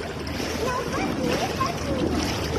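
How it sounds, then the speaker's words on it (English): Water splashing from a child swimming in a hotel pool in Doha, a steady busy wash of sloshing and splatter throughout, with voices calling and talking over it. "Well, Chelsea knows how to swim alone."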